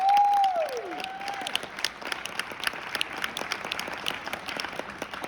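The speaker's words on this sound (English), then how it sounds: "Let's give the band a round of applause." A school assembly applauds the band in a large room, a sustained wash of clapping from many hands that continues steadily after a brief whistle-like tone at the start.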